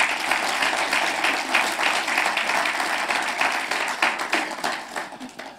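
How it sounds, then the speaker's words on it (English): Audience applause for a woman called up front at a gathering, steady dense clapping holding at a constant level throughout with no voices over it. "Give her a round of applause."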